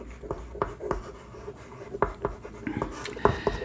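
Chalk or marker taps and scratches across a board during a math lesson on square roots, with short strokes and clicks in an irregular rhythm, close and moderately loud, with no talk.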